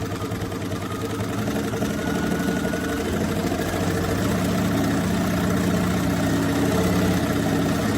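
A sewing machine runs steadily, stitching the pieces of a messenger bag right sides together with a 2.5 stitch length, in a continuous close-up mechanical whir and chatter with no pauses.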